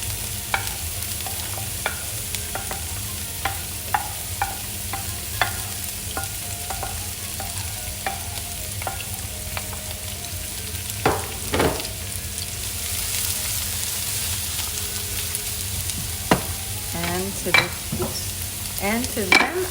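Chopped vegetables softening in olive oil in a pan for meatloaf, a low continuous sizzle broken by intermittent spoon taps and a few louder scraping stirs, no voices.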